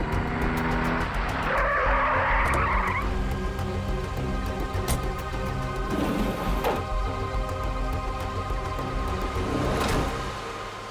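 A taxi's tyres skid and squeal loudly for several seconds, then the car engine keeps running with further faint skids and passes, with no talk.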